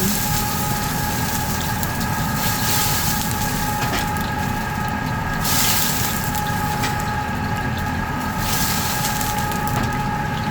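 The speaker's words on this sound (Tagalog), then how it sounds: "lagyan ko na ng sabaw" Broth pours into pancit noodles with a steady, loud, rushing liquid wash that runs unbroken for about ten seconds, with no talking.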